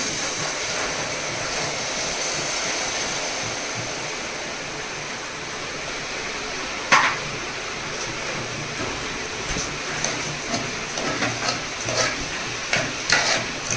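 Soaked, washed lentils going into a hot pan for dal fry, sizzling steadily while being stirred, with scraping clatters of the spoon growing more frequent toward the end.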